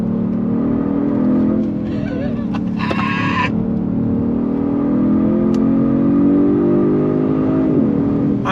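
A 2023 Genesis G70 sedan in Sport Plus mode, its engine revving steadily and loudly up close as it runs through downshifts while braking, with a short mechanical burst partway through.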